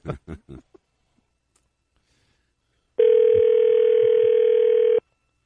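A telephone call ringing out on a radio show line gives one long, steady, loud tone lasting about two seconds, after a few short bursts of talk and then a pause.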